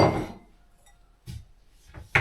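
Drinking glasses are handled in a home kitchen, with a few separate light knocks and clinks set apart by quiet pauses, closing with a sharper clink.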